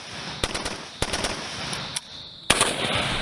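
Sikh regiment soldiers shoot at targets in the dark during night firing practice. Rifle shots crack out singly and in quick pairs, close and loud, with a short pause before a final volley.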